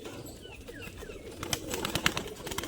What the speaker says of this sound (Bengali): এটা মাদি পায়রা, ঠিক আছে।